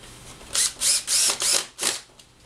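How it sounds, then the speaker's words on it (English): A power driver sinks the bottom screws into a pre-drilled wine rack during assembly, five short bursts of whirring about a third of a second each, close and fairly loud, with quiet gaps between. "it's a good time to go ahead and put all the bottom screws in"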